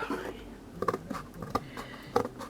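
Scissors snip roughly around a dried shape for a cushioned Christmas tree ornament, giving a series of short, crisp cuts and rustles, close up and fairly quiet, with some speech in between.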